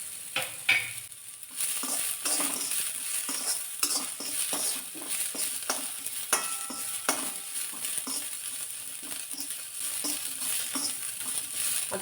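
Onion and white sesame seeds stirred as they fry in a pan, a steady close sizzle with repeated scraping stir strokes throughout, no talking.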